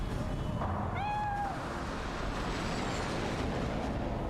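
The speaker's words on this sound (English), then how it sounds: "Oh, there's a cat. Let's pet the cat." A cat in the video game Cyberpunk gives a single short, rising meow over steady background ambience and a low hum.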